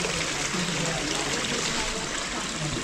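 Spring water near Dal Lake in Srinagar, where people drink, trickles and splashes in a steady, continuous wash of sound. It is close and fairly loud, with no clear voices over it.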